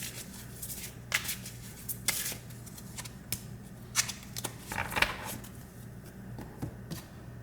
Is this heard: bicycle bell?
no